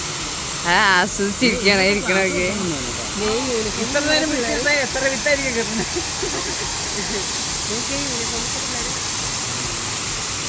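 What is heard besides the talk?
waterfall at KL Bird Park, heard from inside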